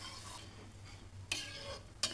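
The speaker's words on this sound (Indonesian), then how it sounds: "Aduk-aduk." A spoon stirs instant coconut milk into about half a litre of water in a cooking pot: soft, faint scraping and swishing over a low steady hum, with two brief sharper clinks near the end.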